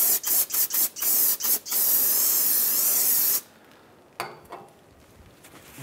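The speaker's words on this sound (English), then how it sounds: "we're going to take some brake clean again" Brake cleaner sprays onto the front brake parts of a 2007-2015 Mazda CX-9. A series of short, close hissing bursts gives way to one sustained spray of about two seconds, followed by a quieter tail with a faint clatter.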